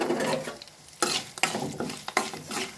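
Spices (salt, chili powder and turmeric) stirred into hot oil in a frying pan for a taro root curry, with a steady sizzle and several sharp scraping strokes of a spoon against the pan, close and alone.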